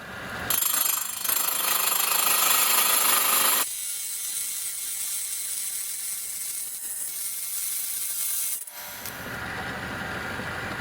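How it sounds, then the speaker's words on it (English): A 6-inch trim saw cuts a black banded agate slab, a steady high-pitched whining grind that drops to a quieter, duller tone partway through and shifts again near the end, close and continuous. "So you can see there how that's cutting."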